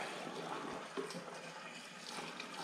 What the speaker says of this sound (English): So I'm just gonna vacuum it out and then put new gas in it